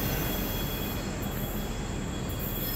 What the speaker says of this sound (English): Eastbound Intermodal with the DPU